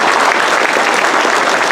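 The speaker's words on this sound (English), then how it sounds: "give him a round of applause already" Audience at a town hall meeting giving a round of applause, steady and fairly loud clapping from many hands across the whole moment.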